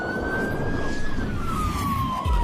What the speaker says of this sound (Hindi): तभी पुलिस की गाड़ी आकर रुकती है